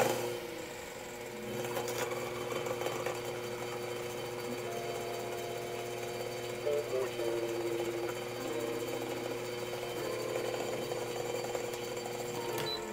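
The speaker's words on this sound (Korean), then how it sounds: "펠로우의 오드 그라인더의 공회전 소음 한번 들려드려 보도록 하겠습니다." A Fellow Ode coffee grinder motor hums steadily at an even pitch with a faint mechanical rattle from a few leftover beans inside, running alone and fairly quiet.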